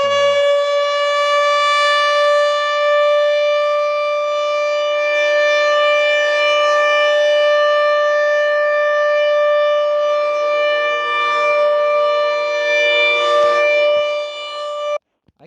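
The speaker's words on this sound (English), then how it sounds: "Oh, hey look, it's a toilet siren." An outdoor warning siren, the so-called toilet siren type in Barberton, Ohio, holds a steady loud wailing tone with a rich, buzzy harmonic edge for about fifteen seconds before cutting off abruptly, with no talking.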